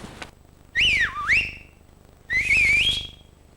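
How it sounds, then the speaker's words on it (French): A person whistles two clear melodic phrases, the first sliding up and down and the second rising and wavering, loud and close against a quiet room with a faint tap beforehand. "Pourquoi tu siffles?"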